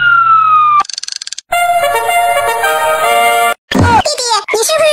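A cartoon fire engine siren wails in loud, bright tonal sweeps, broken by short gaps and followed by a burst of other cartoon sound effects.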